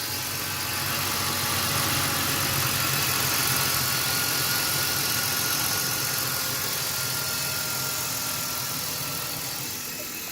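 A BMW E46 winter beater engine idles steadily with the cooling system being bled, a smooth continuous hum with faint vibration, close and unbroken for the whole stretch.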